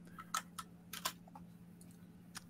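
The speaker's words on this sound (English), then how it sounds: "Somebody's typing away." Someone typing on a computer keyboard during an online film discussion, a few faint, scattered key clicks in short bursts over a quiet background hum.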